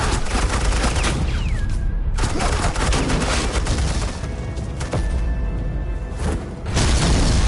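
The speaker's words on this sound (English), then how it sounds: "suppressing fire." Sustained suppressing gunfire in a Batman video game, a dense, loud barrage of rapid shots and booms running nearly unbroken, with a brief lull partway through before the firing resumes.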